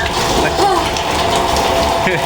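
Rain pours steadily onto a house whose roof is leaking water inside, a dense, constant wash of falling water, with voices talking over it.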